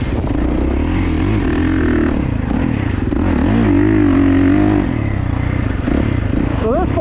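A 2024 Kawasaki KX450 dirt bike engine revs while being ridden, its loud buzzing note rising and falling through gear changes and throttle blips, with some clatter from the bike.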